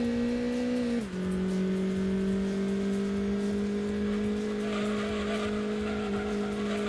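A race car engine drones steadily in the Gran Turismo 2 video game during a one-make race, the pitch dropping briefly at a gear change before holding a loud, continuous whine with faint tire noise.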